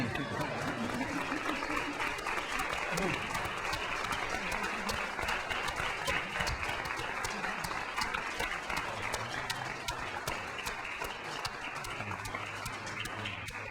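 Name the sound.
applause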